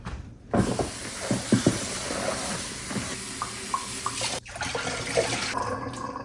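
Food rinsed under a running kitchen tap, a steady close rush of water with splashes and small clinks as it is handled, the flow cutting briefly before resuming.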